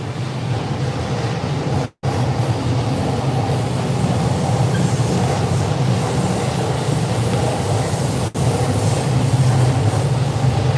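Shinkansen bullet train rumbling along elevated tracks overhead near Shinbashi Station in Tokyo, a loud, continuous low roar with rail clatter lasting throughout, no speech.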